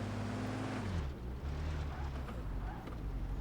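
Car engine in the Car Simulator 2 video game drops in pitch as a gear shifts, then keeps a steady roar under loud wind-like noise during a speed test, with no talking.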